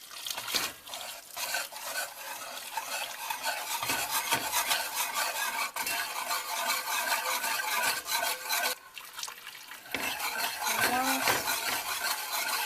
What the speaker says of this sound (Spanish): ponemos la leche al roux de poco en poco sin dejar de batir